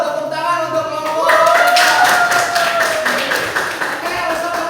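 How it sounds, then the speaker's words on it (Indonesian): Classroom clapping for a student group during a micro-teaching informatics lesson, a burst of claps starting about a second in and running steadily to the end, loud and close, with a teacher's voice over it at first. "Tepuk tangan untuk kelompok."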